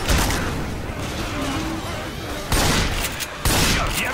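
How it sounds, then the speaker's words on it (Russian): Gunfire and a grenade blast in the co-op zombie shooter Left 4 Dead 2: loud, dense bursts of shots with two sharp bangs late on, continuous and close. "Граната, ложись!"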